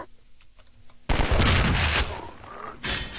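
Rapid gunfire from weapons in a Quake mod first-person shooter, a dense loud burst that starts abruptly after a quiet second, eases off, then returns in a second burst.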